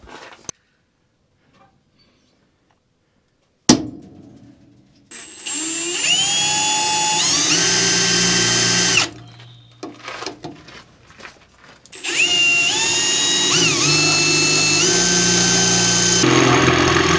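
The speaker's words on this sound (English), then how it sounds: "Drill some holes" A power drill whirs in two long, loud bursts while drilling holes for engine headers, its pitch rising as it bites in, with a clunk and brief rattling handling noise between runs.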